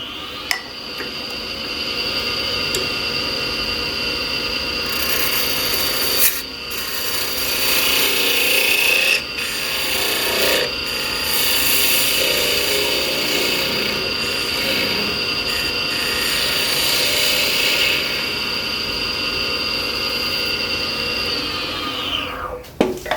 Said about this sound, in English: we'll bring in the Jacob's chuck and we'll drill it